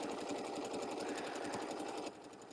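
A sewing machine stitches steadily around the edge of a table topper, a fast, even mechanical whir that stays close and loud before easing slightly near the end.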